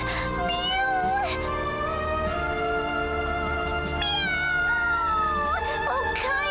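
A cat character in the Bravely Second video game meows repeatedly in high, wavering cries over a steady background music bed.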